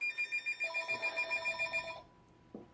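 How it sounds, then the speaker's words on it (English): A telephone rings with a rapid, bright electronic trill, pulsing repeatedly for about two seconds before stopping abruptly, heard up close and clear, followed by a brief soft knock. "done making my phone ring"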